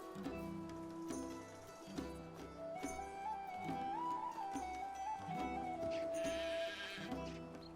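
Sheep bleat repeatedly in a Medieval Dynasty village, the calls loud and close and spaced a second or so apart, layered with a high steady tone and faint ticking, with no voices.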